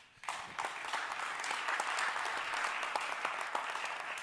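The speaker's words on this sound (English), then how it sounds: "Now give yourself some applause for taking the time to engage in this great democratic exercise." An audience at a university all-candidates federal election forum bursts into sustained applause, a dense even wash of many hands clapping in a hall that holds steady to the end.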